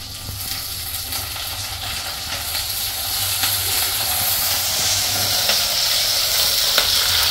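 Curry leaves dropped into hot oil while cooking a Tamil taro-root kuzhambu, giving a steady, close, bright sizzle that grows slightly louder and fuller as it goes on, with no voices.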